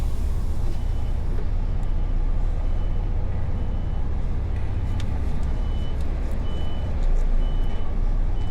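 A delivery truck reverses at an early-morning stop, its beeper repeating steadily over a loud, continuous engine rumble.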